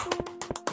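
A handful of quick, close hand claps land in an uneven rhythm over a faint steady hum, over within a second.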